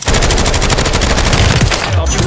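Rapid automatic gunfire from a gun in a video game, a loud dense burst of shots in quick succession lasting throughout, with brief speech mixed in.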